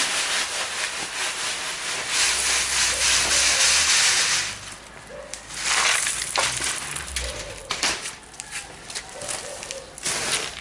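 A newly collected bonsai tree being cut down to sit flatter in its pot, giving broad rasping, rubbing cuts in close bursts that fade and return, with a faint voice in the background.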